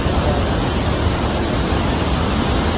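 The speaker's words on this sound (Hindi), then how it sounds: "आप तो भाई झरने के मजे लो" Water rushes continuously at Bhadbhada waterfall near Jabalpur, a loud, dense, unbroken roar like broadband noise heard up close with no talking.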